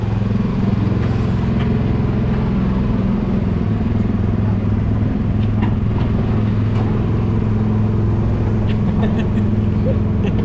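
A small petrol Autopia ride car at Disneyland Paris chugs along with a steady, loud engine drone and faint rattles; people can be heard talking throughout.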